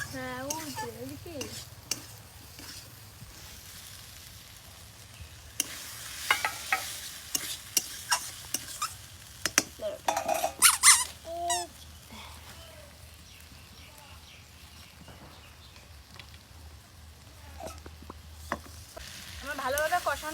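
Figs and potatoes being sautéed with spices in a home kitchen pan, giving a soft sizzle with intermittent spoon stirring and scraping clatter, louder bursts in the middle, while voices talk nearby.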